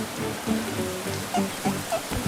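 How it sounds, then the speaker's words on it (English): Steady heavy rain pours down in a Peppa Pig cartoon, a dense continuous hiss with a few soft splashy drops standing out, no voices. "The rain fell pitter-patter, forming big puddles all over the ground."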